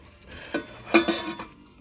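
Stainless steel and cast aluminium frying pans clatter and clink together in a few quick knocks, one ringing briefly, handled close by with no talking.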